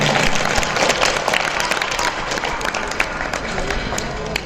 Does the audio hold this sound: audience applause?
yes